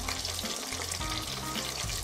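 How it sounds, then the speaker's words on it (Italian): Chicken cutlets frying in a pan with tomato, a steady loud sizzle and crackle close up, continuous for the whole moment with no voices. "intanto aspettiamo che la carne frigge"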